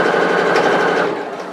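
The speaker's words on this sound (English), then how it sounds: "I normally use the side of the foot of my sewing machine as a guide, so I know I'm sewing in a straight line." A sewing machine runs steadily while stitching a seam on apron fabric, a loud continuous motor whirr with rapid needle clatter that eases off near the end.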